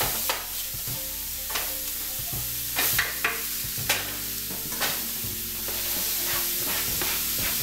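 Ground beef fries in a hot pan for stuffed shells, a steady loud sizzle broken by several sharp scrapes and knocks of a utensil stirring the meat.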